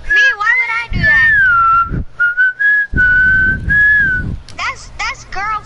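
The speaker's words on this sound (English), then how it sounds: "Yo, stop whistling, bro." A person whistles loudly and close by, holding long wavering and gliding notes broken by short pauses, followed by a few quick chirpy bursts near the end.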